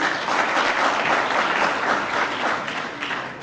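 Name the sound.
applause at awards ceremony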